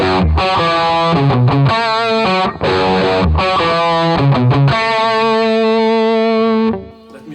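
Distorted electric guitar plays the stop-start break section of a song in G, loud and upfront, with sharp chord stabs and short gaps before a long sustained chord that fades out at the end.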